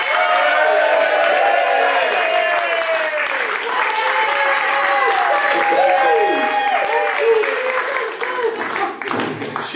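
Enthusiastic audience applause and cheering at the Surrey Steampunk Convivial, many hands clapping steadily while excited voices call out and whoop over it, loud and close throughout.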